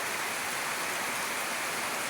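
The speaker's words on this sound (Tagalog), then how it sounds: "Malakas po ang ano, ulan po sa amin ngayon, oh." Heavy rain pours down in a storm, a steady loud broadband roar of water hitting surfaces that holds unbroken throughout with no voices.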